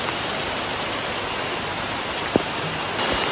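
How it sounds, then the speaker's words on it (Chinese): Heavy rain in Chiang Mai, Thailand, falling in a steady, dense hiss during a motorcycle outing, with one brief tap near the end and no voices. "这雨越来越大了"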